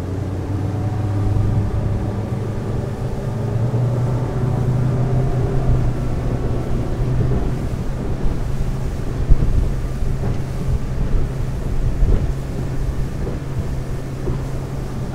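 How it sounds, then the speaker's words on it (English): A Hydrolift X-22 boat crosses rough water in a 25-knot wind, a continuous loud engine drone mixed with wind buffeting and hull slap for the whole stretch, with no voices. "we're gonna leave Hardy's Bay now, cross the rough water"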